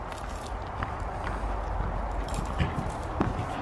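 Hooves clop in an uneven walking rhythm on firm ground, fairly close, with light background noise.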